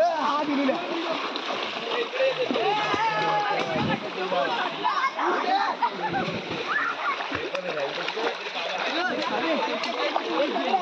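People splash and jump into shallow water at an open swimming spot, with continuous splashing and churning water mixed with lively shouting and chatter from a group throughout.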